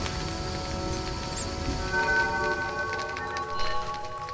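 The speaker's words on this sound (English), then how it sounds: "It's drizzling." Light drizzle falls steadily in The Witcher video game, a soft, even patter of rain with faint tonal ambience and music above it, no talk.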